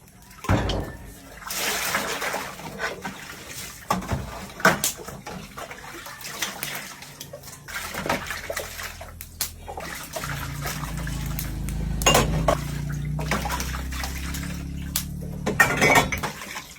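Dishes being washed by hand with water at home: splashing, trickling and clinking of plates, pots and cutlery in irregular bursts, with running water growing fuller and steadier toward the end.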